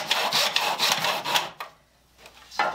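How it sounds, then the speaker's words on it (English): A miter saw cutting short lengths of wooden lath, with three rhythmic bursts of rasping cutting noise, then a brief quiet gap before a final short cut, up close with no talk. "Miter saw comes in handy"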